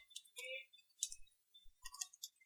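Computer keyboard keys are tapped in short scattered clusters while a terminal command is typed, soft close clicks with brief pauses, alongside some faint voice.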